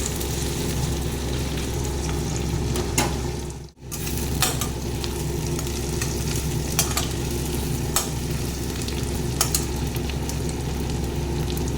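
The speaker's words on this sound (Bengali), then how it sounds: "পেঁয়াজ আর এই শুকনো মাছটাকে একটু নিয়ে একসঙ্গে ভেজে নেব, লাল করে ভেজে নেব।" Onions and dried fish fry together in a pan with a constant close sizzle and a low rumbling hum, marked by sharp clicks of stirring and one brief dip midway, with no speech.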